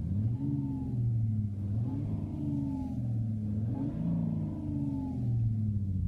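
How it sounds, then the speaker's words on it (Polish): A simulated Nissan GT-R engine sound plays inside a car, revving in rising and falling sweeps over a steady, close, mid-pitched rumble, with no talking. "Co mamy tutaj? Nissan GT-R."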